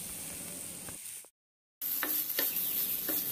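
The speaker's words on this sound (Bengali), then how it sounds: "আরও কিছুক্ষণ আমি নাড়াচাড়া করে নিলাম যাতে লবণটা ভালোভাবে তরকারির সাথে মিশে যায়।" A spatula scrapes and stirs jackfruit and prawn curry in a pan with a soft sizzle under it. There are a few distinct scraping strokes and a short silent gap midway.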